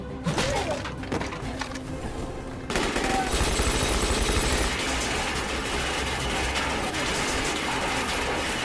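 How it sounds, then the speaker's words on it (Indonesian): Gunshots in a Korean heist film scene: a short quieter stretch, then a sudden loud eruption of sustained rapid gunfire and chaotic noise that continues to the end. "Untungnya Misun dapat menembak Park di sana."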